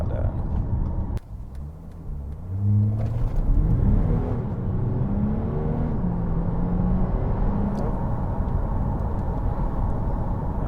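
An Audi A5 3.0 TDI quattro, remapped to around 301bhp, pulls hard at full throttle with a deep, rising diesel engine drone and a steady roar of road rumble from inside the car.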